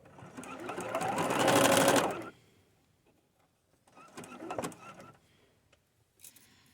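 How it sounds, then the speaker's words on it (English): A sewing machine badly in need of oil stitches a boho fairy skirt from upcycled material. A long, loud run ramps up, then stops into silence, followed by a couple of short, softer bursts of stitching. "We're sewing right over it."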